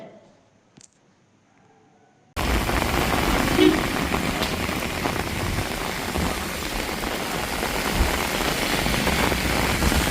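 Steady heavy rain falling in Namakkal, starting abruptly after a quiet moment and continuing as a dense, loud wash of drops on surfaces, with a low engine-like rumble beneath.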